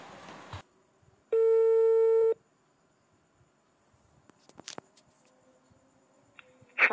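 A single steady telephone busy-signal tone sounds for about a second, clear and loud, surrounded by quiet stretches with faint handling clicks and knocks.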